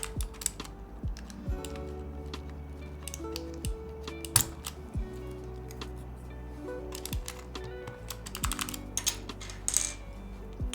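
Plastic keycap clicked back onto a mechanical keyboard switch, a few sharp clicks and taps over a steady low hum, with small scattered rattles nearby.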